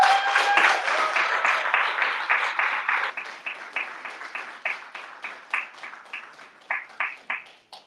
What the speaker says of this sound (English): Another round of applause for Wafat Mustafa.